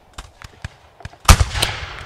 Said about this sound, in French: On va stopper ces gars avec le canon.